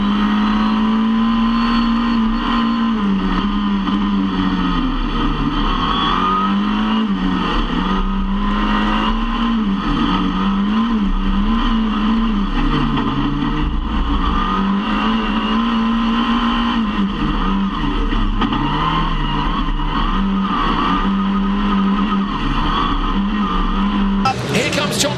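Rallycross race cars at Montalegre, Portugal roar continuously around the track, engines rising and falling in pitch as they rev and shift, loud and close throughout, with a commentator talking over them.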